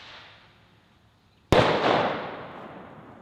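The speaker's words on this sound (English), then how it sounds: "my brother-in-law just lit off a firework" An outdoor firework goes off: a faint hiss at first, then one sudden sharp bang that rolls off into a long fading crackle and rumble, loud and fairly close.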